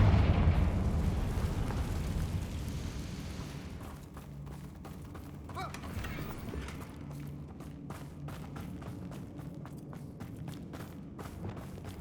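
Confringo fire spell in Hogwarts Legacy, a loud fiery burst and rumble at the start that fades into scattered combat clatter, impacts and footsteps.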